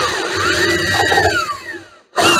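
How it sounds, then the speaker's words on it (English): A power drill whines steadily while boring a 1/8 inch hole at an angle into a fiberglass model steamer hull, the pitch sliding up and then dropping as the bit works through, followed by a brief stop and a restart. "So at the after end and the forward end, I'm drilling a 1/8 hole on an angle."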